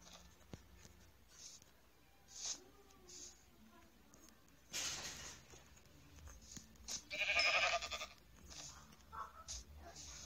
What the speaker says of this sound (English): Ooh, sheep. I need to kill it.